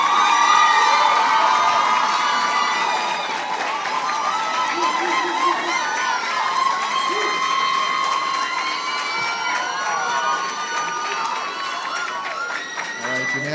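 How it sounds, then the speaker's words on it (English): A crowd of secondary school students and spectators at a national public speaking competition cheers, shouts and applauds loudly and continuously, with high excited voices and whoops dominating the dense, sustained roar. "give your best round of applause,"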